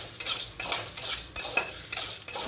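Lentils dry-roasting in a pan for tamarind leaf thuvayal, with a utensil scraping and stirring in repeated bursts, close and moderately loud, a faint sizzle beneath, no talking.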